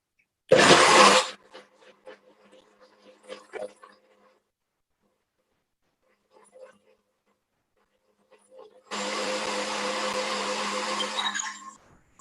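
A kitchen blender blends oat milk in two loud bursts, a short whir at the start and a longer sustained whirring run near the end, with scattered faint knocks and clatter in the quiet gap between.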